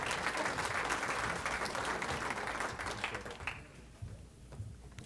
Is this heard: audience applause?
yes